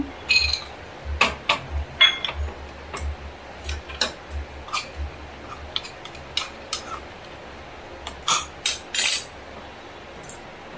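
Cashews, added after raisins, being fried in ghee in a kadai, giving sparse, irregular crisp ticks and sputters close by over a faint low hum, with no talking.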